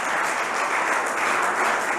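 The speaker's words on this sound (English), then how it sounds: "Another round of applause, if you would, for our speakers." Steady applause from an audience at a park wetlands and ecology talk, a dense even wash of clapping that holds at moderate level throughout with no voices over it.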